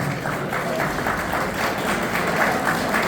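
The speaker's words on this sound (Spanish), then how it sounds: "el aplauso y el agradecimiento de Guillermo de todos." An audience applauds at an arts and culture event in an ornate hall, with dense, steady clapping that holds at an even level throughout.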